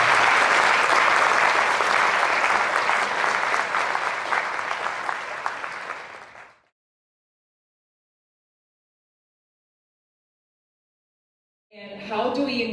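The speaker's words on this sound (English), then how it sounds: "Let's give David a huge round of applause." Symposium audience applause for a teaching effectiveness event fills the room as a dense, loud ovation for about six seconds, fades to silence, then a voice begins speaking.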